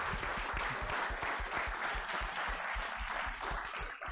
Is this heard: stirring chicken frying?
no